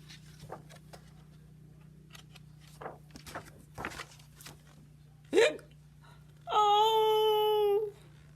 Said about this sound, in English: Ruby has the hiccups now.